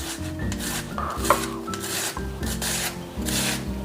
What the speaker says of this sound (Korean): 먼저 양배추를 이런 채칼을 이용해서 썰어주도록 할게요